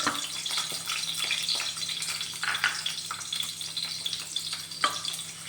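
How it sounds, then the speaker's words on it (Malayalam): Shallots frying in oil in a pan, a steady soft sizzle with faint crackles and occasional scraping stirs, close and moderately quiet, no talk. "നമുക്കിപ്പോൾ തേങ്ങ വറുക്കാൻ വേണ്ടിയിട്ട് ആദ്യം കുറച്ച് ഉള്ളി ഇടാം"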